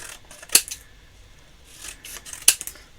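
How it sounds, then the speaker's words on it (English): Two crisp snips of scissors cutting die-cut paper strips for a handmade Christmas wreath card, heard up close about two seconds apart, with soft paper rustling between the cuts. "Bring in our scissors, and we're just going to cut these strips out."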